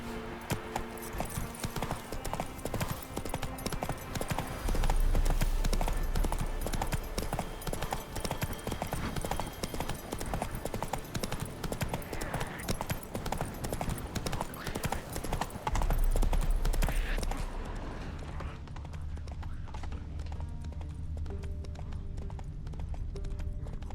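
Horse in The Witcher 3 galloping, dense rapid clip-clop hoofbeats running continuously and loud for most of the stretch, easing to a softer trot near the end.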